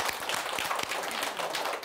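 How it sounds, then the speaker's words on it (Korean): An audience claps steadily for a moment at a gathering of elderly people honouring a retired school principal, the dense applause filling the short stretch without any talk. "박수!"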